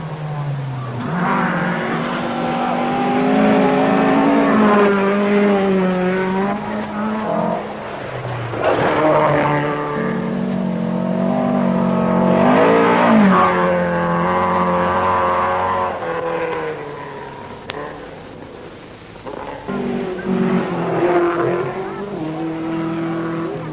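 Rally cars at speed on Finnish special stages of the 1973 1000 Lakes Rally, engines rising and falling through gears in long roaring passes, loud and close, with occasional tyre noise.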